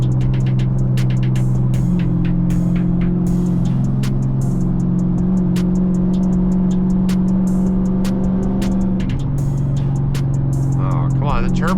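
A turbocharged Dodge Challenger SRT on the highway gives a loud, steady engine drone from inside the car, with frequent clicks and a rising whistle near the end, while people talk over it.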